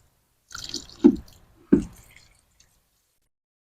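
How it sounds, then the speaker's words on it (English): Water poured onto newly planted tomato and pepper plants in wet garden soil, a short burst of splashing with two distinct wet slaps and drips, close and isolated, fading into quiet. "And then I just water them in really good."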